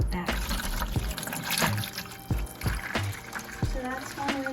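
Aquarium water flowing through a siphon hose during a water change, a continuous close trickling and gurgling under a person talking.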